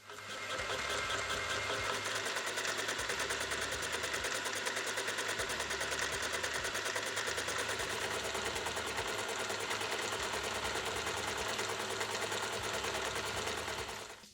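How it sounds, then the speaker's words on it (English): A fly cutter takes facing passes across a metal part, giving a steady, loud mechanical whir with a fast, even chatter that holds without a break for the whole stretch, with no voices. "Now I can jump back in with a fly cutter and clean up all those faces to some sort of acceptable surface finish."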